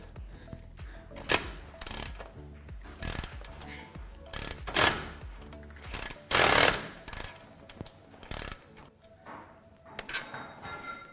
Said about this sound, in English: using an 18mm socket and wrench, remove the lower shock bolt